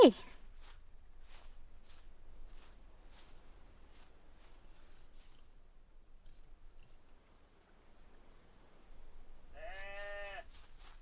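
A single goat bleats briefly near the end, following quiet rustling and faint chewing sounds, with a person speaking softly in between.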